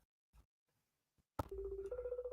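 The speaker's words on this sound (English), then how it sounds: "Come on, answer your phone." An outgoing phone call late at night: after a few faint knocks and clicks, a sudden loud click gives way to a repeating electronic ringback tone that pulses steadily while the call goes unanswered.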